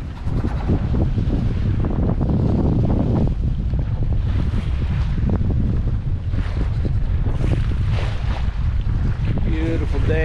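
Nor'Sea 27 sailboat under sail on a bay, with steady loud wind rush buffeting the microphone and water washing along the hull throughout; a voice is faintly present underneath.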